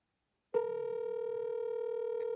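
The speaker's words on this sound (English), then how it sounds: "It's ringing." A telephone ringback tone starts abruptly and holds as one steady, unbroken electronic tone, clear and moderately loud over a quiet line.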